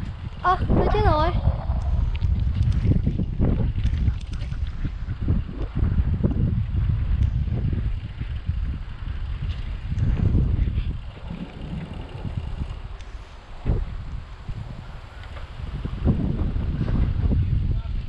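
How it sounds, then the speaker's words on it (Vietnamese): Gusts of wind buffet an outdoor microphone while running or cycling, producing repeated low, loud rumbling bursts as people talk. "Oh, gió."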